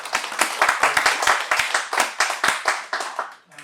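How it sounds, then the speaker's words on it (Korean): Close, brisk clapping from a small group at a seminar in Korea, fast and uneven, lasting a few seconds before tapering off. "큰 박수 한번 부탁드리겠습니다."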